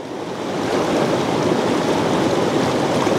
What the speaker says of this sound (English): But here we go again, we're crossing the creek another time.